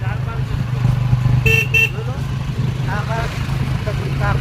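A motorcycle engine hums steadily close by, and a short double horn toot cuts in midway as it rides past. Voices talk over the engine noise.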